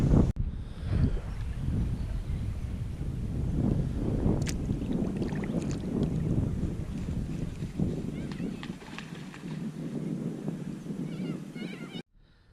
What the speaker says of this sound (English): you can feel that wind starting to come up a bit now